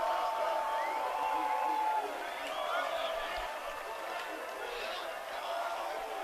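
Crowd noise rising at a high school boys lacrosse championship between The Haverford School and Malvern Prep, a broad steady roar and cheering after a goal, with a commentator talking over it throughout.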